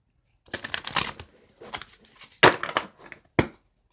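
A deck of oracle cards is shuffled by hand close up, giving crisp riffling and slapping bursts in several quick runs separated by brief pauses, with sharp snaps near the end.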